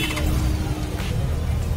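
Honda Gold Wing motorcycle engine idling steadily, a continuous low rumble with an even throb and a slight rise in intensity partway through, close up and alone without talk.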